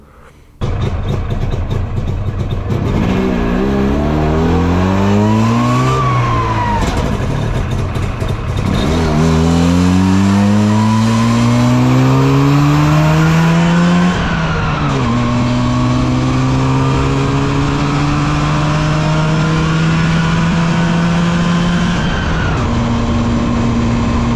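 A Trabant rally car's two-stroke engine revs hard through several rising sweeps, climbing in pitch, dropping and climbing again, loud, close and alone for the whole stretch.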